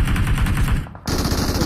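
Relentless automatic enemy gunfire in PUBG Mobile, a loud, close, rapid rattle of shots that cuts out for an instant and then resumes.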